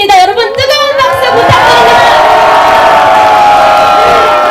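Crowd of citizens at a Gwangju political rally cheering and shouting loudly, a dense sustained roar of voices with whoops, steady and close throughout.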